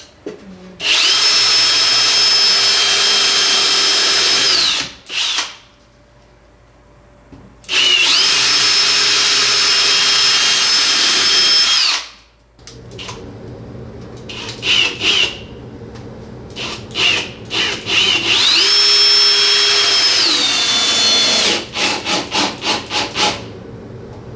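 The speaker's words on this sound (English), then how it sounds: "I'm just going to put some screws into here." A power drill drives screws into a wooden kitchen island leg: three long, loud whirring runs, each rising and then dropping off, separated by short pauses, with a few clicks and quick stuttering bursts at the end.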